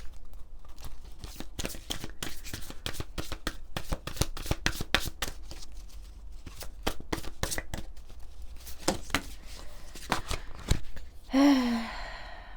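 Oracle cards are shuffled by hand in a rapid, crisp riffle of papery flicks, close and continuous for about eleven seconds, ending with a brief breathy vocal sound.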